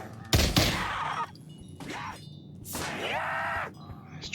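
Gunshots from a Pavlov VR zombies shooter game: a sharp loud blast near the start, followed by metallic ringing and reload clanks later, with game noise throughout.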